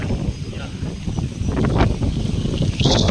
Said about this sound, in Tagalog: Lakas ng hangin ngayon dito.